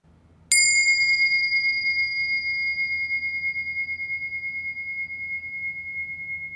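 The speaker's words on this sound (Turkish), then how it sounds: "Zil sesiyle meditasyona başlayalım." A single clear meditation bell is struck once and rings on with a pure, slowly pulsing tone that fades gently over several seconds in near silence.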